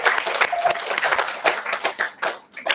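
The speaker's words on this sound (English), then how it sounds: "So can we give my team a round of applause?" Applause from an audience at a wealth-building talk for Filipino freelancers, a short burst of brisk clapping close by that swells and fades in uneven waves.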